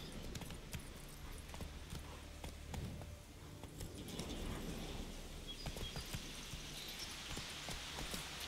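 Hooves clip-clop in a quick, uneven rhythm in the video game The Witcher 3 over a rumbling background, growing busier partway through, with no voices.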